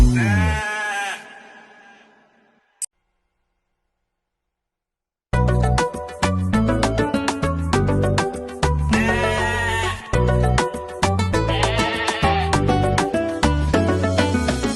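A sheep bleats loudly and close with a wavering cry at the start, then a short silence before music starts and plays on for the rest.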